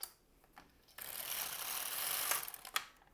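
A knitting machine's needles being pushed forward along the needle bed give a short ratcheting mechanical clatter that builds into a steady metallic rasp for about a second and a half, then a few quieter clicks. No one speaks.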